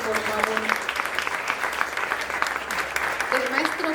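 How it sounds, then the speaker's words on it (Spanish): An audience at a talk gives a steady round of applause that lasts a few seconds, moderately loud, with voices audible beneath the clapping. "Démosle otro aplauso, por favor."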